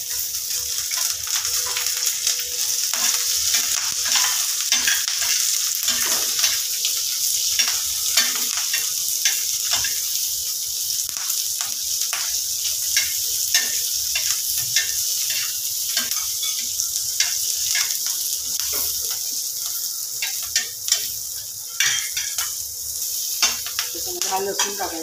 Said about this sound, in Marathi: मिरच्या परतून घेऊ.